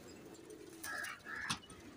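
A Saharanpuri pigeon coos twice in quick succession, soft and close, against a quiet background hiss.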